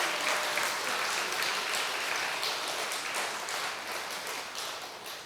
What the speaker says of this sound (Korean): 지 돈 안 줬다고 박수 치는 것 봐.